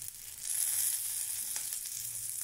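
Spices fry in a pan for a medicinal tamarind kuzhambu, a soft, steady sizzle close by with no talking over it.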